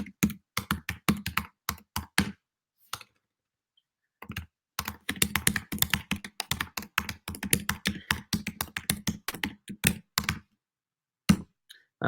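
Bursts of fast typing on a computer keyboard during a livestream, crisp clustered keystrokes with short silent pauses between runs, close and fairly quiet, no talking.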